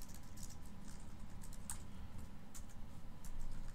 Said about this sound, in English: So let's type in something new.